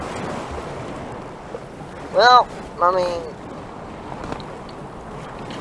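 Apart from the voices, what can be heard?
ocean waves in the video game Stormworks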